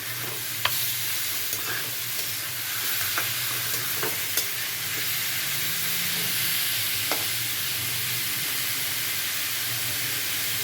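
Papaya, potato and chickpeas stir-fry in a pan. A dense, steady sizzle carries on throughout, with scattered light clicks and scrapes from stirring.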